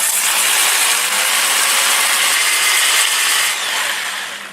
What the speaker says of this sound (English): I can sand this under power